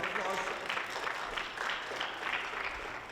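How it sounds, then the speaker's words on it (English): Band students at a school band workshop giving a short round of applause, steady clapping from a group with talk mixed in. "Round of applause."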